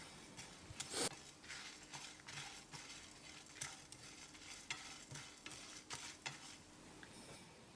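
Fennel seeds and torn tamarind pieces stirred in a hot pan for drumstick kara kuzhambu, soft continuous frying crackle with repeated spatula scrapes and taps, faint and close, no voices.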